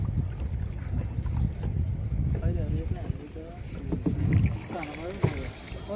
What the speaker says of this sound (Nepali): डुङ्गा त फास्ट गइरहेछ